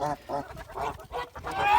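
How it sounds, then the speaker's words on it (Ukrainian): Several short honks from domestic geese on a farmyard come in quick bursts, close by, with brief gaps between calls. "Почнемо з наших голосливих гусей"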